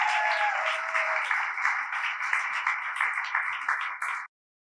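A storytelling event audience applauds storyteller Roger with steady, dense clapping that keeps going for about four seconds and then stops abruptly.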